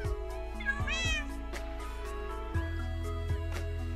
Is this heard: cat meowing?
yes